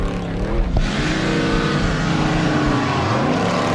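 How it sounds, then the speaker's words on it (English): Cameron Steele's off-road race truck, a Triton Engineering IRS, roars throughout with a deep, continuous engine rumble that revs and shifts pitch while it runs hard on a desert race course. "we're watching Cameron Steele in this incredible Triton Engineering IRS"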